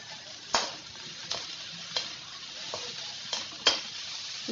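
Capsicum and green chillies stir-frying in a hot pan for Hakka noodles: a steady close sizzle with several sharp metallic spatula scrapes and knocks at irregular intervals.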